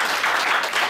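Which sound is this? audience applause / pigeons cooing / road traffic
audience applause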